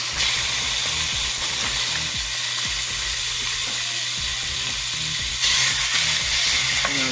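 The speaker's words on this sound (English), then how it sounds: "Now our pan's all heated up, so we're gonna add our steak that we marinated with that rub up in here." A rub-marinated steak lands in a preheated pan and sizzles steadily, a loud, close, continuous hiss with faint clinks and a brief surge near the end, no talking.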